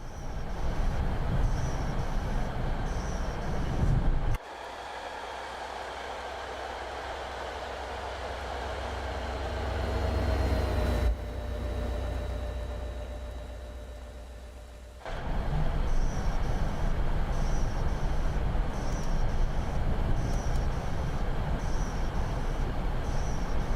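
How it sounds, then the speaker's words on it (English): MBTA Boston commuter rail train running, a steady rumble and rolling roar that drops quieter in the middle, with faint tonal whines and a sharp return to full loudness. "I got on my commuter now."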